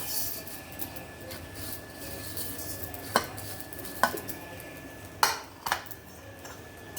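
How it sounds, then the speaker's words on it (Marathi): Coriander seeds dry roasting in a pan for a homemade mutton dish, a faint low rustle under the room's background, broken by a few sharp metallic clinks and scrapes of a spoon against the pan. "आपण आता धणे भाजून घेणार आहोत।"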